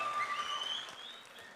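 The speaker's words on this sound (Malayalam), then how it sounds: "അദ്ദേഹത്തിന് ഒരു വലിയ കൈയടി കൊടുക്കണം." An audience at the Kannur Mahotsavam 2024 festival claps for a speaker. The applause is faint and sounds somewhat distant, with a thin sustained tone ringing above it.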